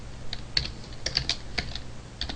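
Java code is typed on a computer keyboard in crisp, close key clicks that arrive in uneven clusters with short pauses between bursts. No voices are heard.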